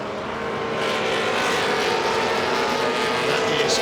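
Historic 2-litre Lola T290 sports racer passing at Silverstone, its engine noise swelling in as it approaches and holding a loud, steady roar through the pass.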